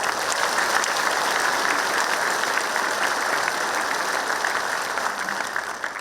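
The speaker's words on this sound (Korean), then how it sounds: "뜨거운 박수 부탁드립니다" Warm, steady applause from a large audience at the Gangwon Special Self-Governing Province launch ceremony, dense clapping held evenly for about six seconds and easing slightly at the end.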